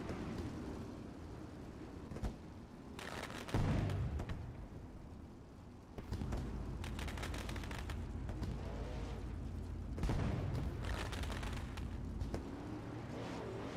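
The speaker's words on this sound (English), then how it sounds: "Fireworks shoot off" Fireworks go off after an iRacing sim race finish in a video game, a steady dense stream of booms and crackling bursts with a few louder surges, continuous and moderately close, with no voices.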